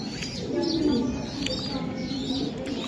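Racing pigeons coo softly at a large pigeon farm, low murmuring calls with faint chirps over a steady background hum.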